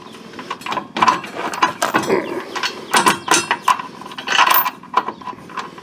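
Ratchet wrench clicking as bolts are tightened while installing a trailer hitch on a Honda Odyssey, bursts of close, sharp metallic ratcheting with short pauses between strokes.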